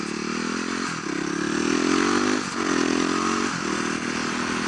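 A supermoto motorcycle rides through traffic, its engine droning steadily close up with rising revs between brief gear-shift dips, and wind noise on top.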